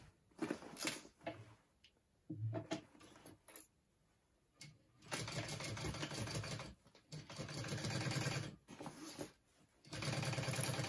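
A sewing machine top stitching a backpack runs in short stop-start bursts at first, then in longer steady whirring runs of rapid needle strokes, close and fairly loud, with brief pauses between.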